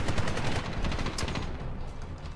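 Gunfire in Medal of Honor, a dense burst of rapid shots with a sharp crack midway, then fading into a noisy tail.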